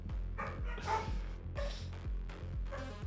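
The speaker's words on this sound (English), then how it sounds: "Your dog is telling everyone to wake up." A dog barks repeatedly indoors at home, a string of about six rhythmic, fairly loud barks with whiny yips between them, close by and without speech.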